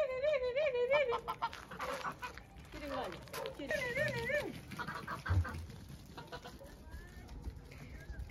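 Geese and chickens in a garden at evening feeding time, with repeated honking and clucking calls close by, overlapping someone talking throughout.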